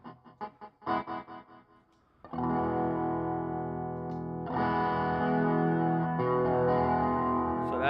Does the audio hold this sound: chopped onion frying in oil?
no